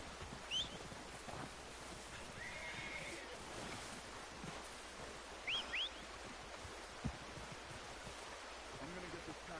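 A couple of brief horse whinnies in the video game Red Dead Redemption 2 rise faintly over a steady background of rushing water and low ambient noise.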